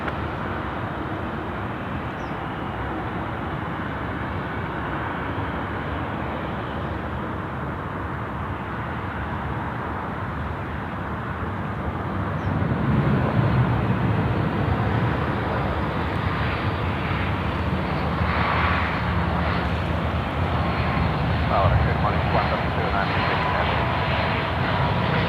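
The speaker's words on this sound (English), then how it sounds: "We've got a Dash 8 now. About to drop in runway 34 right, coming in from Orange." A Dash 8 turboprop landing on runway 34 right, a steady close engine drone that swells louder about halfway through and holds, with a radio voice and talk faintly mixed in.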